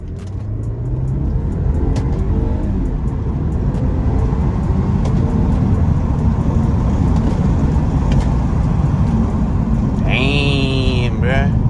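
BMW 320i M Sport engine pulling hard from inside the cabin, a steady loud drone of acceleration with road noise throughout, and a rising whine near the end.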